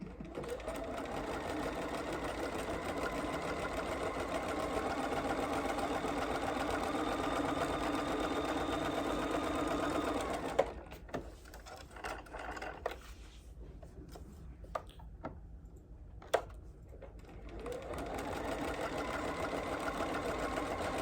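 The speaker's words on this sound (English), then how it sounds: "you can quilt with a wavy stitch easy peasy" A sewing machine quilts a wavy stitch through fabric with a fast, even mechanical whir for about ten seconds. It stops for a few scattered clicks and handling sounds, then starts running again.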